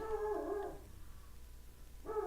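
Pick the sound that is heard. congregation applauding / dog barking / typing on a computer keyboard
dog barking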